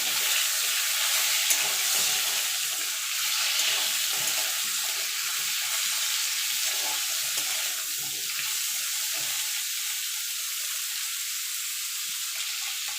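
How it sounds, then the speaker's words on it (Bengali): Drumstick (moringa) stalks sizzle steadily in hot oil for a long stretch, a constant bright hiss with soft scraping and shuffling from stirring underneath. "ডাঁটাটা বেশি ভাজার দরকার নেই, একটুখানি নাড়াচাড়া করে নিলে হবে তেলের মধ্যে"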